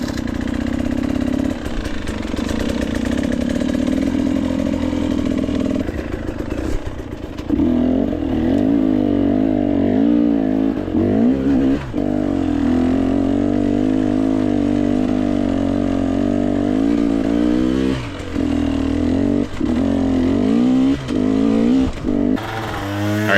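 An enduro dirt bike at a hard enduro race, its engine droning and revving in bursts as the clutch is slipped on a steep descent, loud and close, with clattering over rough ground throughout.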